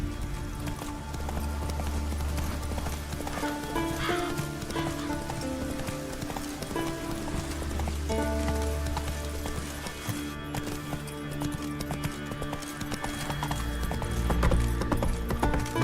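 Roach, the horse in The Witcher 3, galloping with steady rhythmic hoof clip-clops throughout, close and continuous, layered over game music and ambient sound.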